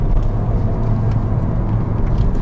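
A 2008 Mini Cooper S turbocharged engine drones steadily while the car is driven on a road, a close, loud low rumble and whir with no talking.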